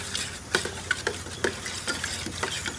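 Passion fruit juice with sugar and a little water is mixed with a spoon, which taps the glass in a steady run of light, ringing clinks about every half second, close and clear, with no talking.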